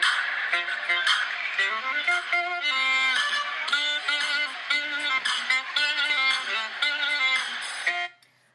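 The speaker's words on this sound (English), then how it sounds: "They're playing the saxophone." Saxophone-like melodic phrase with a steady sequence of short, clear notes, played loud and alone for about eight seconds before cutting off.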